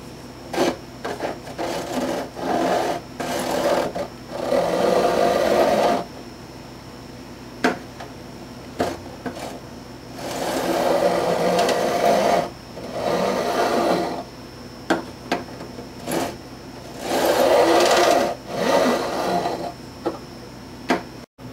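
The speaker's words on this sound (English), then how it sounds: "here's the frets filed and beveled." Metal file beveling the fret ends along the edge of a guitar fingerboard, heard as repeated close rasping strokes in several bursts of a few seconds each, with pauses between them.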